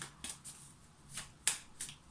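A deck of tarot cards being handled and riffled, with a few soft, brief bursts of card flutter spaced irregularly at close range, quiet overall.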